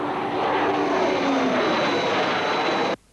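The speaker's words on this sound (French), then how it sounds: "Mais c'est l'avion où est Tintin." A cartoon airplane engine from a Tintin animation roars loudly and continuously, a dense steady drone that cuts off abruptly after about three seconds.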